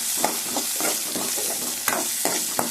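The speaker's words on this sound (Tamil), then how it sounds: "கடுகு, வெந்தயம், கருவேப்பிலை, மஞ்சள் மிளகாய், சின்ன வெங்காயம்லாம் போட்டு தாளிக்கிறேன்." Hot oil sizzles steadily while mustard seeds, fenugreek, curry leaves, chillies and shallots pop and crackle in short bursts, tempering for kuzhambu, with occasional stirring scrapes close by.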